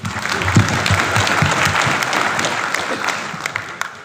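Crowd at a BSP political rally in Jaipur bursts into loud, sustained applause, dense clapping that swells early and gradually thins toward the end, with no voice over it.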